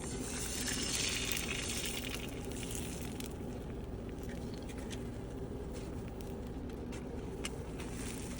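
A Costco ready-made egg chapati fries lightly in a little ghee in a pan, giving a steady, continuous soft sizzle and patter that runs throughout without pause.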